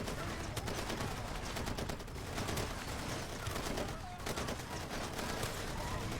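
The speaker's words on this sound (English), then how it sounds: "I'm getting shot in the back." Far Cry 2 gunfire: dense, rapid bursts of shots crackle continuously throughout, loud and steady in a constant barrage.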